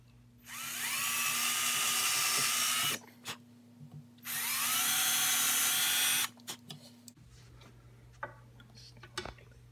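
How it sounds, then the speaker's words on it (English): A power drill boring holes in a muzzleloader stock: two loud sustained whining runs of about two and a half seconds each, separated by a short pause, followed by faint ticks and handling noises. "And we'll drill out the holes."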